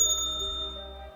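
A single bright bell ding for a notification bell icon, sounding once at the start and ringing out briefly with a clear sustained tone before cutting off.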